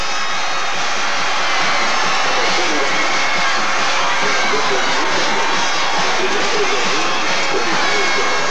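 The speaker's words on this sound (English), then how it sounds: "Here comes the crowd." A packed football stadium roars at the 1988 4A Texas state championship between Paris High and West Orange Stark, a dense, loud, continuous wash of cheering that fills the whole stretch, with a commentator's voice partly heard over it.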